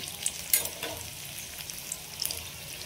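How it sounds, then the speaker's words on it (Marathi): Ridge gourd bhaji fritters frying in hot oil, a steady soft sizzle with a few sharper crackles and pops throughout. "ती तळून वर येत आहेत भजी आपली।"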